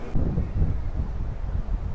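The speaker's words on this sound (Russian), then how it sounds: "это обычный ветер для Майами" Wind gusts buffet the microphone on Miami Beach the day before Hurricane Irma, a low, rumbling rush that surges and eases over two seconds with no other sounds standing out.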